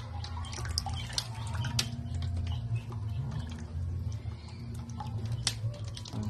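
Water is poured into a container while preparing a disinfectant mix for Rhode Island Red chickens, a soft, continuous trickle and splash with scattered drips, faint and steady.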